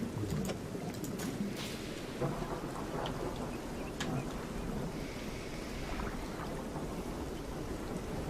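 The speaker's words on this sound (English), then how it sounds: "The rain sounds kind of spooky." Rain falls steadily in a thunderstorm, a dense continuous patter with faint rumbles of thunder underneath, heard alone without talk.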